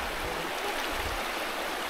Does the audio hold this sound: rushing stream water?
yes